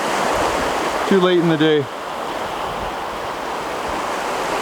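A Rocky Mountain river's main flow gives a loud, steady rushing wash throughout, with a brief spoken phrase partway through.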